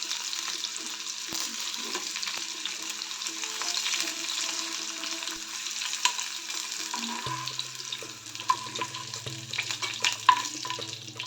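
Garlic frying in oil in a pan while bhindi masala curry is being cooked, a steady soft sizzle that runs throughout, with faint clinks and scraping toward the end and no talk.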